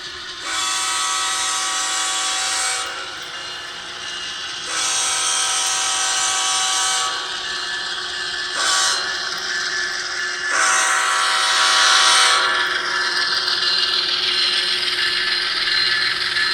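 ScaleTrains ES44AC model diesel locomotive in Canadian National paint, sound-equipped, running by with repeated horn blasts in long bursts over a steady engine rumble.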